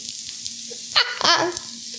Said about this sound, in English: Anytime you have potatoes crisping up, that's fun, right?